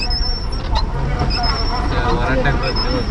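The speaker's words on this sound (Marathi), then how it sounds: "इथे ट्राफिक असतं बऱ्यापैकी" Busy traffic at a bus station: engines rumble and buses idle under a steady roadway din, with crowd babble and people talking nearby throughout.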